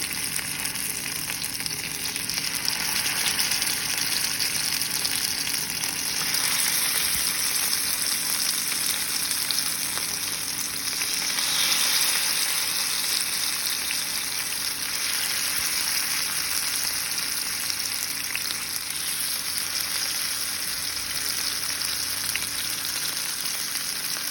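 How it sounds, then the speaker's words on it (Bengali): Marinated shrimp fry in hot oil in a pan, a continuous close, crackling sizzle with steady spitting and hiss that runs unbroken, growing slightly busier midway, with no talking. "তো আমি আমার ম্যারিনেট করা শ্রিম্পগুলো একে একে দিয়ে দিচ্ছি"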